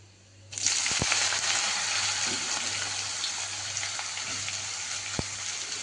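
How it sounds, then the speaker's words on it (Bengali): Ash gourd drops into hot oil in a pan and sets off a sudden loud sizzle that keeps frying steadily and close, with a couple of faint clicks. "এই যে লাল লাল করে ভাজা হয়ে গেছে এবার আমি ছাঁচি কুমড়োটা দিয়ে দেবো"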